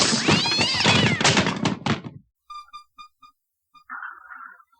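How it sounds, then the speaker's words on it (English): A house cat under a couch gives a few short meows interspersed with soft thumps and creaks, following a stretch of indoor talk; the sounds are close and intermittent. "My cat is doing some weird shit under the couch right now, and I'm hearing him in the springs"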